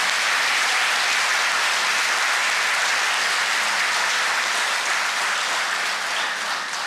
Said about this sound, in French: Second bon applaudissement pour Adama Bictogo.